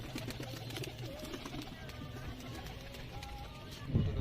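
Pigeons coo inside a loft in Jammu, soft low throaty calls that are faint against a quiet room, with voices murmuring in the background.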